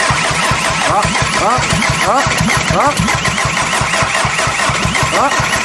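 Seat Leon car engine revving after a heat exchanger was fitted, loud and close with a steady rough rumble and repeated rising rev sweeps throughout.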